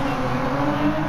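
A TVR Tuscan Speed 6 with a 4-litre 24-valve inline six and a five-speed manual spins its wheels in Gran Turismo 7. The engine gives a loud, continuous, close-up roar for the whole moment.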